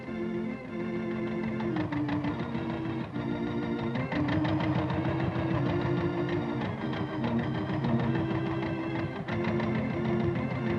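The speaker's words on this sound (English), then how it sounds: "The first horseless carriage come to Pleasant Corners." An early automobile engine, a horseless carriage arriving in a small town, heard as a steady, loud mechanical chugging and clattering that runs throughout.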